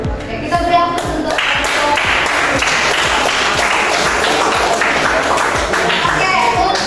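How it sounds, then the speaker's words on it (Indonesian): A classroom of students claps together in loud, sustained applause, dense and continuous, with a few voices calling out through it. "kita beri aplaus untuk"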